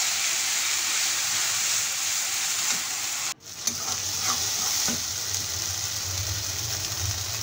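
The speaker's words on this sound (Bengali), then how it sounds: "একটু নেড়ে নেব।" Cumin, green chillies and onion-garlic-ginger paste fry in leftover fish oil in a pan while being stirred, giving a steady close sizzle with a brief sharp break partway through.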